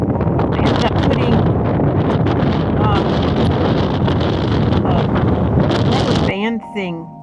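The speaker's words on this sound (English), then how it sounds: "It is so windy." Strong wind roars and buffets the microphone continuously, then cuts off abruptly near the end.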